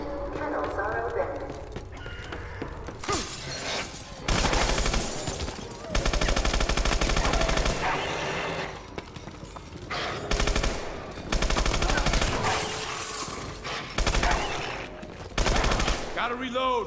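Automatic weapon fire in the Call of Duty: Advanced Warfare Exo Zombies video game, loud rapid bursts repeating through the stretch among game sounds and voices.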